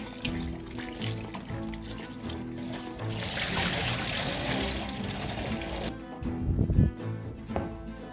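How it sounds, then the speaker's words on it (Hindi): Raw chicken is washed by hand in vinegar water in a kitchen, giving continuous sloshing, splashing and trickling water that swells in the middle and ends with a few clunks. "चिकन को वाश कर लेना है इसी पानी के अंदर जिसमें हमने सिरका लगा"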